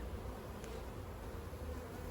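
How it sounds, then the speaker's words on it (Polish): A very large bee buzzes close by over a steady background hum of bees around a hive frame, the drone continuous and fairly loud with no talk. "To jest taka mega ogromna pszczoła, szczerze mówiąc."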